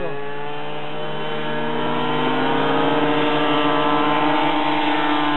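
Unmodified racing motorcycle engine held at full throttle during qualifying at a racing track, a loud, steady tone that climbs slightly in pitch and dominates the clip with no talk over it.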